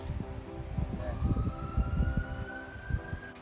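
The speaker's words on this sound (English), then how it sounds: "the ambulance is coming, it's coming." An ambulance siren rises in a long steady wail over a busy street scene, heard under rumbling traffic and crowd noise, moderately loud and drawing nearer.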